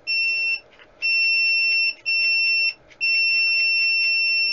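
A mini 100-watt SWR and power meter with OLED display (BG5CQV CQV-SWR120) sounds a shrill two-tone electronic alarm beep in long bursts with short gaps, nearly continuous, loud and close.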